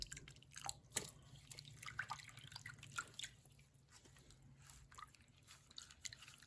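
Wet mohair pieces lifted out of hot Kool-Aid dye water, giving faint drips and small watery splashes close by in a quiet room.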